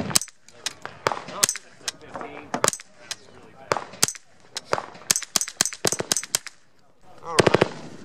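A KRISS Defiance DMK-22 .22LR rifle fires a string of sharp, snappy shots in uneven succession, ending with a quick rapid burst, heard outdoors from close by with mechanical clicks between.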